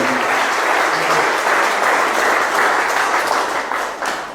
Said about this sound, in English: let's give Eric, ladies and gentlemen, an amazing round of applause for an amazing job done